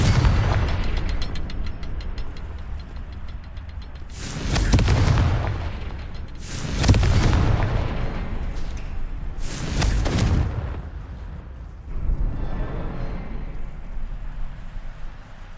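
Explosions from the Confringo spell in the Hogwarts Legacy video game: four heavy booming blasts spaced a couple of seconds apart over a rumbling background.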